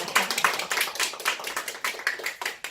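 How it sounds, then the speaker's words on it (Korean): An audience at a town debate in Namp'yeong-eup applauds, steady clapping from many hands at moderate distance, continuous throughout with no talk over it. "박수 한번 드리겠습니다"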